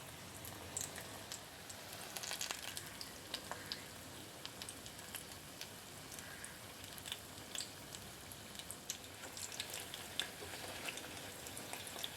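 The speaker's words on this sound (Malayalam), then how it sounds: "രണ്ട് വശവും നന്നായിട്ട് തന്നെ മൂത്ത് വന്നിട്ടുണ്ട്" Chilli bajji (battered green chillies) frying in hot oil on a home stove, a steady, soft crackle and fine sizzle of bubbling oil throughout, faint and continuous with no one talking.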